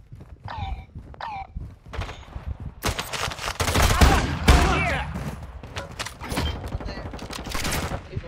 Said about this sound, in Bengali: আমি কন্টিনিউয়াসলি ফায়ার রাখছি রাখছে